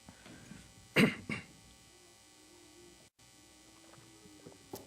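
Two sharp coughs from a man with a cold in quick succession, close and loud, followed by a quiet room with a low hum during a church sermon.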